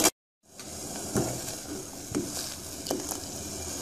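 Tulsi tea with added tea leaves and sugar is stirred in a pan, a faint bubbling simmer with soft scraping strokes after a brief click and a moment of silence.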